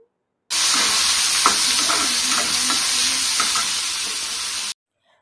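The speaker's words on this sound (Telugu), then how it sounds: "ఆయిల్ అయితే హీట్ ఎక్కిన తర్వాత ముందుగా కట్ చేసి పెట్టుకున్న ఆనియన్స్ టమాటా అయితే వేసుకొని ఫ్రై అయితే చేసుకుంటాను" Chopped onions and tomatoes fry in hot oil with a loud, steady sizzle that starts abruptly and runs unbroken for a few seconds, with light stirring scrapes in the pan, then cuts off.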